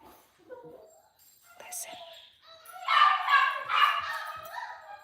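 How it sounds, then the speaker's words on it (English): Dogs barking, yipping and howling together with a person howling along, quiet at first and then a louder run of rising, wavering howls toward the end. "She's howling with the dogs."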